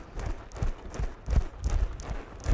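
Horse hooves clip-clopping in an irregular rhythm during a western dressage exercise with ranch-versatile horses, moderately close, with no talk over them.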